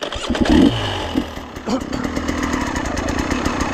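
An enduro motorcycle engine idling and running near at hand while the clutch is eased out, giving a steady mechanical drone with a brief rise early on and a small bump midway.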